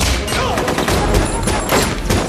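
Gunfire in a tense sealed-room scene from the film X2 (2003), a dense continuous volley of rapid shots and impacts, loud throughout.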